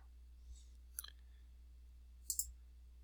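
A few sharp, faint computer mouse clicks, one single and then a quick pair, sit in near silence at a desk.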